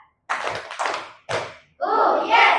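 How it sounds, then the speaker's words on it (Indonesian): Hands clapping in a counting clap game with children, three loud bursts of claps in quick succession followed by a sustained round of applause and a voice, close and lively. "Oke, tepuk tangan untuk kita semua."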